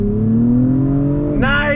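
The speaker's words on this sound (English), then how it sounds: "Really love the sound coming from this TLX Type S, especially on the outside." 2021 Acura TLX Type S sedan in Sport Plus mode with automatic shifting, pulling away from a standstill, the engine note climbing steadily and then jumping up into a higher, brighter rev, loud and close.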